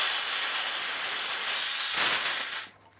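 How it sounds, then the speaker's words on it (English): Compressed air hissing out of a stirrup pump hose through a small release valve while recharging a PCP air gun, a loud, steady close hiss lasting a few seconds before cutting off abruptly. "just open up that little valve. And you'll hear the air in the hose getting released."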